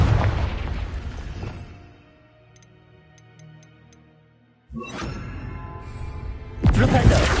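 Two heavy explosion bursts from the Confringo spell in Hogwarts Legacy on PS5, each a loud boom that fades into a low rumble, separated by a quiet stretch with faint ticking tones.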